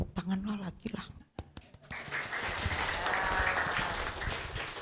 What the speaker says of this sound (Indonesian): Tepuk tangan lagi lah.